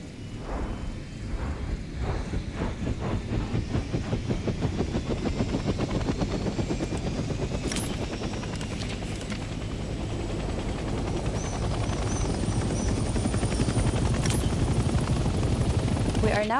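Helicopter engine in the video game Hell Let Loose spins up from the pilot seat, a rhythmic rotor chop accelerating into a dense steady drone, loud and continuous, with a couple of sharp clicks partway through.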